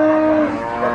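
Limousin cattle moo at a livestock market, one loud, close, drawn-out bovine call lasting the whole second with a falling tone.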